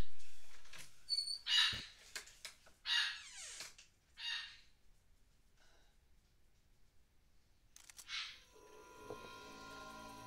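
A bird gives a few harsh, crow-like squawks in short bursts, then goes quiet before a final rough call over faint background hum.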